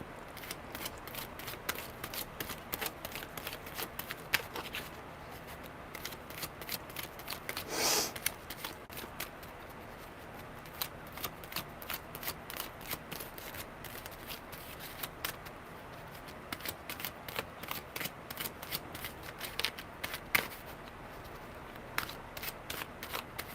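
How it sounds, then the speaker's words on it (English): Tarot cards are shuffled by hand close up, giving a steady run of crisp riffling clicks and flicks for over twenty seconds, quiet and without talk. "That was some good shuffling."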